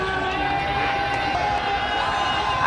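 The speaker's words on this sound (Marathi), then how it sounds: "आणि अर्थातच विजयाचा जल्लोष हा मॅच पाहिल्यानंतर करण्यात आला" Cricket fans celebrate India's T20 World Cup win over South Africa, and a large crowd roars and cheers in a steady, dense wall of noise.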